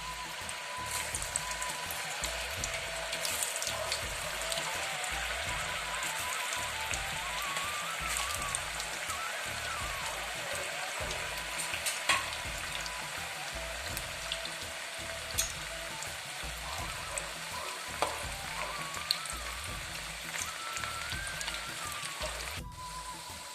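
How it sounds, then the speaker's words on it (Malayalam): Raw banana slices fry in hot oil for sharkkara varatti, a Kerala snack: a steady, even sizzle and bubbling crackle held throughout, with faint stirring scrapes and no voices. "ഓയിൽ നന്നായി ചൂടായി വന്നിട്ടുണ്ട്. ഇനി ഇതിലേക്ക് കായ ഇട്ട് കൊടുക്കാം."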